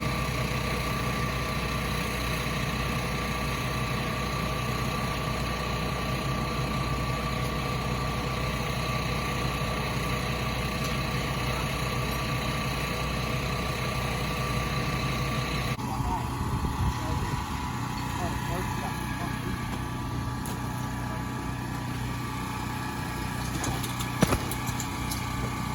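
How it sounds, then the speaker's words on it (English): An old generator runs at a kart racing track, putting out a steady, loud droning hum with mechanical vibration that continues without a break and shifts slightly in tone partway through. "that old generator, that thing's making some racket"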